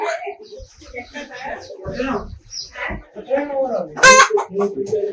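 Chickens cluck amid people talking nearby, with one loud, sharp squawk bursting out near the end.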